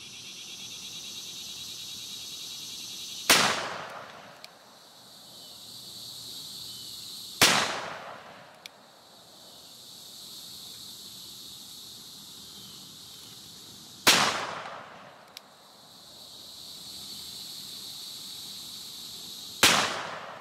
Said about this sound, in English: let's see if I can bust some of those reactive targets by shooting to the right